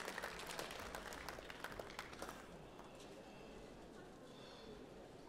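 At the Swiss Finger Food Trophy culinary competition, spectators clap for the Geneva team, a faint, scattered round of applause that is busiest at first, then thins and fades into quiet room tone.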